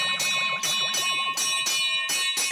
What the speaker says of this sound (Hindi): अरे मंदिर की घंटी है भाई, कोई फायर ब्रिगेड की घंटी नहीं है कि लगातार बजाए जा रहे हो।